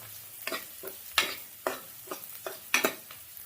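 Cumin seeds and chopped tomatoes sizzle in hot oil for a dal tadka, with a steady crackle and repeated stirring clatters of a spoon against the pan at close range, no voices.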